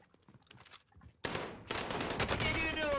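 Rapid automatic gunfire in a video game bursts in after a quieter opening and keeps up as a loud, dense stream of shots to the end.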